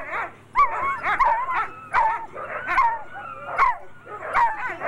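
Several sled dogs in Churchill, Canada bark and yip excitedly in quick bursts before a sled ride, with whining, howl-like cries between, close by and loud.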